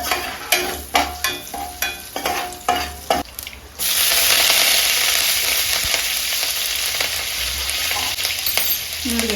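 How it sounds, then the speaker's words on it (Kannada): A few rhythmic scrapes of stirring, then spices hit hot oil with a sudden loud sizzle that keeps crackling steadily close by. "ಸೇಮ್ ಅದೇ ರೀತಿ ಮಾಡೋದು ಒಗ್ಗರಣೆ"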